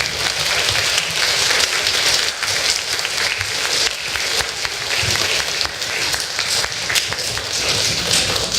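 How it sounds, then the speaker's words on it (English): A crowd of primary school students applauds continuously, dense clapping filling the whole stretch at a steady, loud level with no voices standing out. "let's give him a huge council round of applause"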